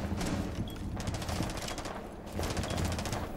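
Rapid automatic gunfire in Rainbow Six Siege rattles out in two long sustained bursts separated by a short pause, loud and close with no talking over it.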